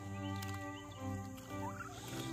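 Turkeys on a homestead gobble in a loud, continuous chorus of warbling calls that overlap close by and run steadily throughout.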